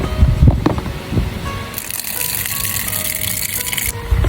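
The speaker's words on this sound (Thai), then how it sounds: "เทน้ำออกให้หมดเลย" Water being poured out of a container used for sprouting salad greens: a steady, fairly loud rushing gush that begins partway through and lasts about two seconds, after some earlier handling clatter.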